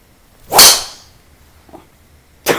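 A Callaway GBB Epic Subzero driver strikes a golf ball with one sharp, loud impact that rings out briefly. A second strike begins right at the end.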